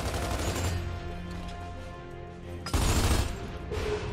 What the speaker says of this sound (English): Hey, Marcus, check this shot.